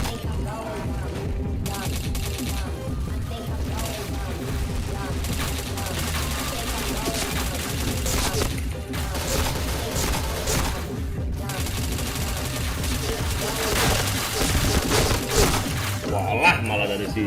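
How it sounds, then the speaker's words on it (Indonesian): Continuous loud gunfire in the shooter game Point Blank, with rapid automatic bursts and shattering hits filling the whole stretch while players talk over it. "Walah, malah dari situ nembak."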